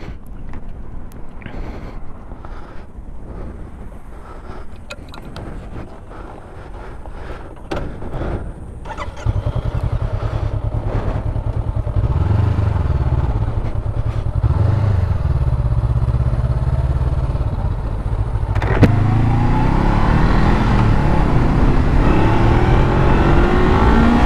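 Honda CBR500R motorcycle engine running steadily and loudly while being ridden, a continuous drone that rises in pitch as it accelerates, with some clatter before the ride gets underway.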